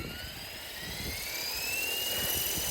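A Blade Fusion 360 RC helicopter in flight, its rotor and motor whine steady and close, rising slightly in pitch as it climbs back into the air, with a continuous whirring drone and no talking.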